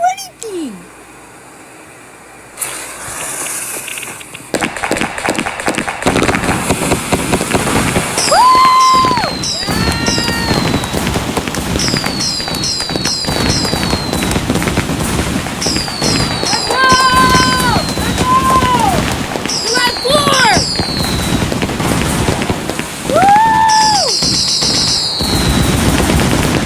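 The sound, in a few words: fireworks going off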